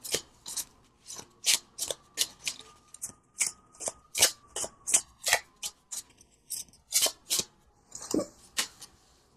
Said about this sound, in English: I'm going to pull from the Tarot of a Moon Garden